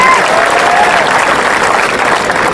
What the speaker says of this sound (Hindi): मेरे स्वागत में दोबारा जोरदार